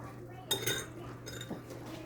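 A spoon stirs oats into melted chocolate in a pan, making a couple of brief metallic scrapes and clinks, quiet and close, over a low background hum.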